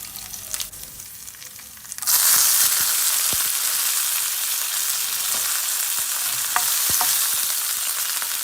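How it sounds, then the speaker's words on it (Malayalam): Mustard seeds, dried chillies and curry leaves hit hot oil after two seconds of quiet. The oil bursts into a loud, sustained sizzle with scattered pops and crackles, close by. "ഉണക്കമുളക്, കറിവേപ്പില എല്ലാം കൂടി ഇട്ടിട്ടാണ് ഒന്ന് കടുക് വറുത്തെടുക്കുന്നത്"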